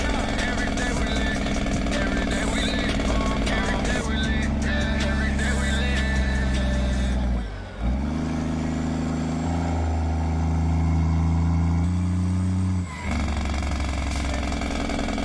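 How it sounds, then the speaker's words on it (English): A car engine in a video game drones and rumbles steadily, its pitch dipping and rising again twice as it revs between gears. "I want to listen to the engine for a little bit over here because I do love this engine."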